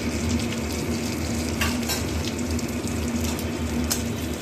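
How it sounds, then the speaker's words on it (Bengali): Whole spices (sada phoron) and a bay leaf fry in hot oil in a pan, giving a steady, close crackling sizzle with a few sharp spatters and faint stirring scrapes, without talk. "ফোড়নটা একটু ভাজা ভাজা হবে, মোটামুটি ভাজা ভাজা হয়েও এসছে।"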